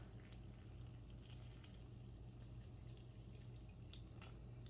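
Warm water for bread dough pours steadily into a container, a continuous gurgling splash with faint drips, no talking.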